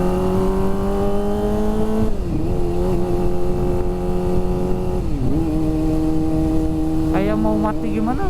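A Kawasaki ZX25R motorcycle engine runs in first gear with a loud, steady high-pitched drone, dipping and wavering as if about to stall, with a couple of throttle blips near the end.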